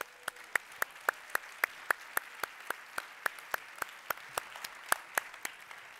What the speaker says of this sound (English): maybe a small, big applause for Albert